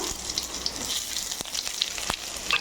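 Dried red chillies sizzling in hot groundnut oil for a Pallipalayam chicken dish, a steady close crackle of frying with a few sharper pops and brief spits, no voices.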